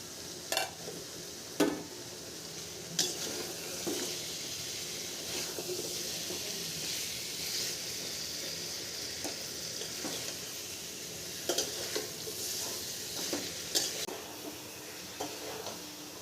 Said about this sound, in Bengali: এখন কেটে রাখা আলু আর পটলগুলো সব দিয়ে দিব।